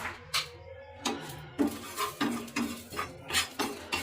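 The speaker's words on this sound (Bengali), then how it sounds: "গরম শুকনো তাওয়ায় আমি একটু এই গোটা জিরে, গোটা ধনে আর শুকনো লঙ্কা এটা একটু ভেজে নেব" Whole cumin, coriander seeds and dried chilli are dry roasted on a hot tawa, heard as a series of close spatula scrapes and clinks at a fairly steady rhythm, with a faint rustle of seeds and no talking.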